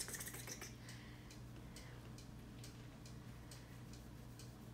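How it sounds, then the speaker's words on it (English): Keys tapping on a computer keyboard in another room, a faint, steady run of light clicks in an irregular rhythm over a constant low household hum, with no talk. "I can hear my son typing on his computer."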